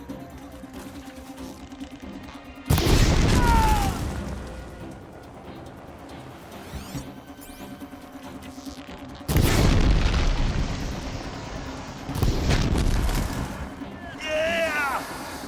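Enemy fire in Horizon Zero Dawn Remastered bursts into heavy booming explosions, arriving in several loud blasts with quieter rumbling gaps between them.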